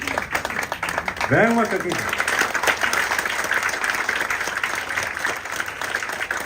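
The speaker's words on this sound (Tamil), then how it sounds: "எல்லாம் எழுந்து ஒரு பலத்தை கைத்தட்டு கொடுங்க" An audience at the Sangamam 3.0 welcoming ceremony rises and claps loudly, a steady wash of applause running the whole time beneath someone speaking over it.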